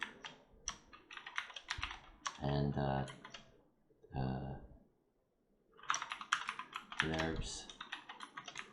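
Rapid computer keyboard typing in close, crisp bursts of clicks, pausing while someone speaks a few words, then resuming with another quick flurry of keystrokes.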